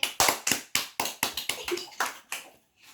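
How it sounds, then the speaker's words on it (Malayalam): Hands clap for prize winners at a small gathering: about a dozen sharp, close claps in a steady, slightly uneven rhythm that slows and softens before stopping, with no voices. "എല്ലാവരും ക്ലാപ്പ് കൊടുത്തേ."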